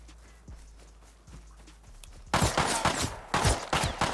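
Gunfire in the Rust video game, a few faint distant shots at first, then a loud close burst of rapid repeated shots.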